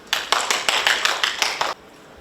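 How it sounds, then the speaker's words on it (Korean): An audience in a church community hall applauding to welcome the pastor at a book launch event, with a brief burst of steady, rhythmic clapping that stops abruptly, fairly close and moderately loud. "큰 박수로 환영해 주시면 감사하겠습니다"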